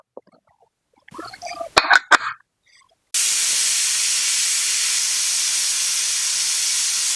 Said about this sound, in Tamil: 2 விசில் போட்டுக்கலாங்க.